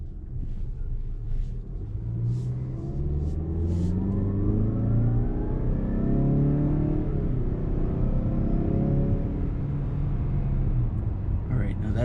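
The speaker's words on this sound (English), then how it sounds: "That's the initial acceleration without the sport mode turned on." A 2019 Mazda CX-5 Signature accelerating with sport mode off, its engine rising through gears in a smooth, swelling rumble heard from inside the cabin over road noise.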